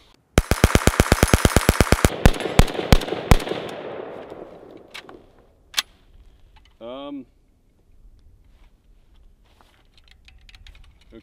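A VSKA AK47 rifle fires a rapid full-auto burst of sharp, loud, evenly spaced shots. A few slower single shots follow before the firing stops as the rifle malfunctions, leaving quieter handling clicks and a brief metallic noise.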